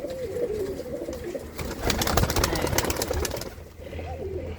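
Domestic flying pigeons coo in low, rolling murmurs at close range; a busy rustling burst, like flapping wings, swells briefly in the middle before the cooing carries on alone.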